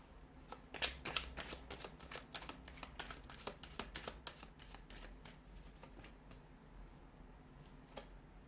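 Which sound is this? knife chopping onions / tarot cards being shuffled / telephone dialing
tarot cards being shuffled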